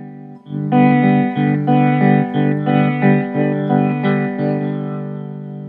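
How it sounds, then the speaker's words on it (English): Tape echo from a T-Rex Replicator cartridge during head adjustment: a sustained distorted guitar chord with rhythmic repeating echoes pulsing several times, loud and alone. "listen for sound changes in the echo signal"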